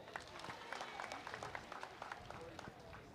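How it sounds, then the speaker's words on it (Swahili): A crowd applauds the Nairobi governor at a county bursary launch, with faint, scattered claps under a voice speaking over it in a hall. "Makofi kwa gavana."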